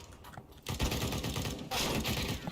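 Rapid gunfire from a Nova shotgun and other weapons in a CS:GO match, dense loud bursts that swell sharply partway through and keep going with little pause.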